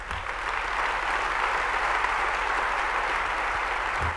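Audience at a devotional discourse clapping steadily, a dense, even wash of many hands at moderate distance holding constant throughout without pause.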